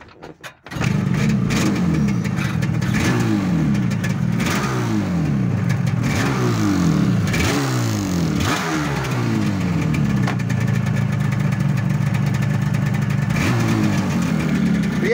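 LC2 engine running after its leaking carburettors were fixed. It starts up close and loud, then revs in a series of rising and falling blips before settling into a steady idle, with no voices.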